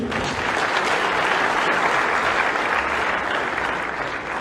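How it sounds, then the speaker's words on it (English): A large audience at a public speech breaks into sustained applause, dense clapping that stays loud and steady throughout with no clear voices above it. "Another round of applause"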